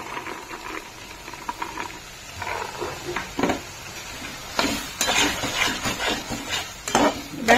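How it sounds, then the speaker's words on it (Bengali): Green peas being stirred in a metal kadai while cooking dum aloo, with repeated scraping and clinking of a spatula against the pan over a low sizzle, irregular strokes close by and no talking. "এবার আবার এটাকে ভালো করে নাড়তে শুরু করে দিয়েছি।"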